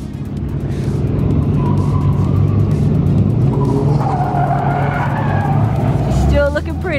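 A Nissan 350Z drifting, its tires skidding and squealing continuously over a loud, steady engine roar, close and sustained throughout.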